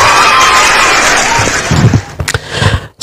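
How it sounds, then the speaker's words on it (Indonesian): Loud audience applause and cheering at an Islam–Christianity debate on marriage, a dense roar of clapping and shouts that drops away into a few scattered claps and thumps before cutting off. "Kita kasih tepuk tangan buat Bang Oki."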